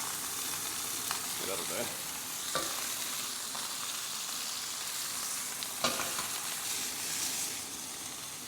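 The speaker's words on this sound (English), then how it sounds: "Sear that up a bit more." A steak's fat cap sears in a hot pan with a steady, close, crackling sizzle and a few sharp pops and scrapes, while someone speaks briefly over it.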